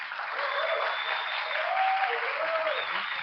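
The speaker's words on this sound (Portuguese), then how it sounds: "uma salva de palmas para ele, gente" An audience at a talk applauds the speaker, Milton, with sustained, even clapping that fills the room at moderate volume from start to finish, with faint voices mixed in.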